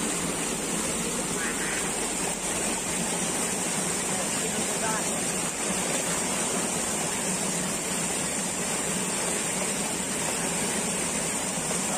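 River water being collected, a steady broadband rush of flowing stream water filling the scene continuously, with faint voices in the background.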